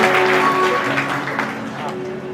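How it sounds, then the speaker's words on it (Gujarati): A crowd at a Jain gathering claps to welcome an honoured guest, a dense burst of applause that slowly fades while voices and a sustained tone carry on underneath. "એકવાર જોરદાર તાળી પાડીને સ્વાગત કરો"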